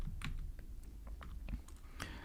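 Code is typed on a computer keyboard in quick, irregular bursts of close, crisp key clicks over a faint steady room hum.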